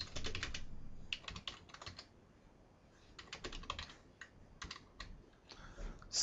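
Clattering keystrokes on a computer keyboard come in quick irregular runs with short pauses between them, close and fairly quiet, with no talking.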